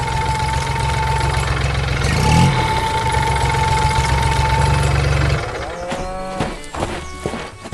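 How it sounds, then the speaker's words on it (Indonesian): A green cartoon tractor working a green rice paddy on a farm, its engine idling steadily with a constant mid-pitched drone and a faint tonal whine, which cuts out near the end and leaves scattered light farm sounds. "traktor hijau bermain di tengah sawah hijau, menggembur tanah dengan roda kuning yang ceria"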